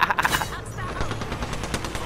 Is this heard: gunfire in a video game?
yes